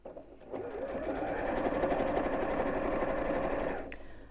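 A sewing machine runs steadily at close range, stitching a bowling bag seam with a continuous whirring rattle that starts up, holds for several seconds and stops with a small click.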